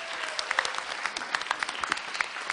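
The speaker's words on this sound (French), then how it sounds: "que pouvons applaudir les collégiens" Applause from an audience for schoolchildren of a Gascon calandreta school, a dense patter of many hands with scattered sharper claps standing out, moderately loud and steady without voices.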